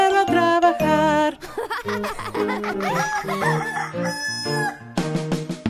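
A rooster crows loudly in a children's song, the bird's call repeating several times among bright musical tones.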